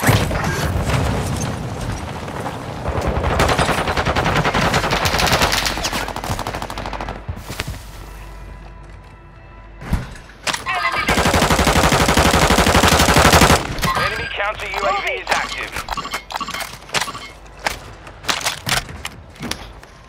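Gunfire in Call of Duty: Modern Warfare II: loud, sustained bursts of rapid automatic shots with booming impacts, broken by brief pauses and then renewed volleys.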